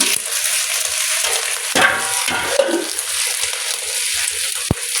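Onions frying in a pan for a minced meat and vegetable dish, a steady close sizzle with faint clinks and one sharp utensil tap near the end.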